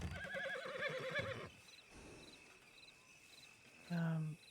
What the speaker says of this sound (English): several horses just rolling around, doing horse things